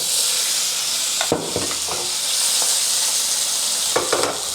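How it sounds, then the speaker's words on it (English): Marinated shrimp pan frying in hot oil over medium heat, a loud continuous sizzle with a few brief clacks and scrapes from the pan, close and alone without talk. "heat up some oil in the pan and pan fry the shrimp on both sides"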